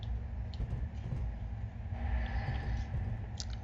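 A train in Train Simulator 2019 runs toward Newcastle at speed, giving a continuous low rumble with faint higher squeals from the track.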